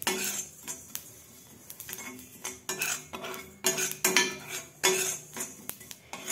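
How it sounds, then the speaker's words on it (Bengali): Fennel seeds frying in a small wok for malpua, with repeated metallic clinks and scrapes of a utensil against the pan close by, in short bursts with brief pauses and no talk. "মালপোয়ার জন্য মৌরি ভেজে নিচ্ছি।"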